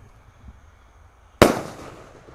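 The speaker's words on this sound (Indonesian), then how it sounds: "Lanjut kita nyalakan mercon pelontar. Ini langmas, meledosnya di bawah dan di atas." A langmas launcher firecracker set off during a Lebaran night celebration bursts with a single loud, sharp bang after quiet outdoor background, followed by a short crackling, fading tail.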